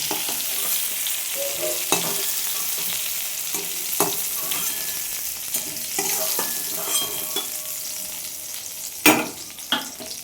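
Giant river prawns fry in hot oil in a pan, giving a continuous soft sizzle broken by the scrape and clatter of stirring, with a sharper crackle near the end.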